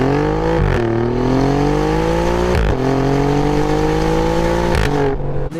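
A car engine and exhaust rev hard through several gears, each climbing pitch cut by a sharp drop at the shift, loud and close without talk.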